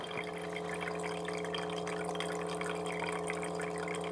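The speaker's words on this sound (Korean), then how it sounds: "이게 물이 졸졸졸졸 흐르는 소리가 듣기 싫은 소리는 아닌데 이게 펌프 소리가 엥 하고 같이 나가지고 요게 조금 시끄럽네" A donut-ring humidifier's water pump whirs with a steady tonal hum while water trickles continuously beneath it, close and fairly quiet.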